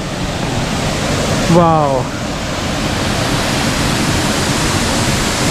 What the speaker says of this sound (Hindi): कितना प्यारा वाटरफॉल है यार,